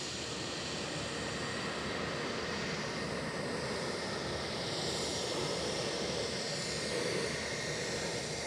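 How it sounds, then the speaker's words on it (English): An inbound British Airways airliner approaches Edinburgh Airport, heard as a distant, steady engine rumble and wind-like rush that stays faint but continuous, swelling slightly toward the end. "inbound British Airways is just about visible"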